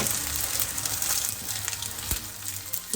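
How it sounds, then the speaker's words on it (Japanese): Steady crackling sizzle of sesame oil in a hot frying pan, continuous and close, with a few brief clinks over the hiss. "ごま油を小さじ1ぐらいね、鍋肌から入れました"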